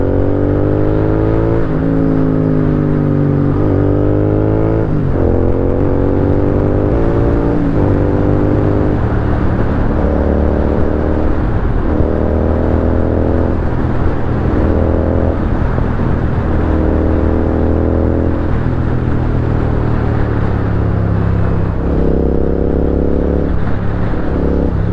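A Royal Enfield Continental GT 650 motorcycle rides along a road, its parallel-twin engine droning loud and steady with repeated rises and drops in pitch as the rider works through the gears.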